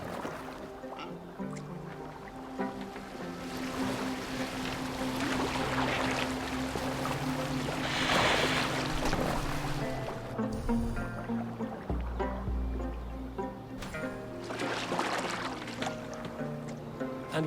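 Viking boat moving on water in Assassin's Creed Valhalla, steady splashing and creaking of oars under a continuous wash of water, with a few other sounds mixed in, fairly close and constant.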